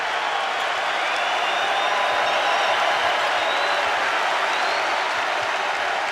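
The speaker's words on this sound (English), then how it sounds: "Listen to this crowd." A basketball arena crowd in Madison roars steadily at a Michigan State versus Wisconsin game, a dense, continuous wash of cheering and applause without pause.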